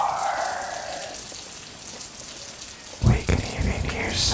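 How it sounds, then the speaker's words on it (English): Heavy rain pours steadily in a dense, even hiss, with a short burst of louder rumbling or close knocks near the end. "It's raining really, really hard."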